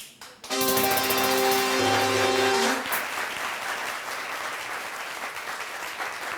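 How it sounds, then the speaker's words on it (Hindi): Studio audience on The Umer Sharif Show, a TV comedy program, bursts into loud, dense applause after a short musical sting; the clapping then carries on steadily and slightly softer. "बस भाई बस, इतनी तालियां?"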